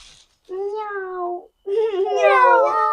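Two drawn-out meows, the second louder and more wavering, with short quiet gaps between them.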